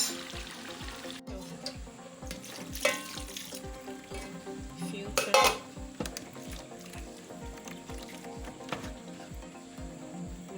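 Boiled spaghetti drains in a strainer, giving soft watery trickling and dripping with a few louder splashy bursts, close and fairly quiet with no talking.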